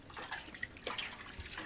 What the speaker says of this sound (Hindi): ये कल पे ब्रश करके मुंह धो रही है।